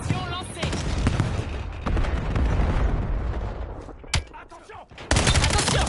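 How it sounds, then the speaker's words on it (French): Cluster grenade blasts and gunfire in the video game Black Ops 7, a dense, loud stretch of overlapping shots and booms, with a sharp burst near the end, while voice lines play over the action. "Grenade à dispersion lancée."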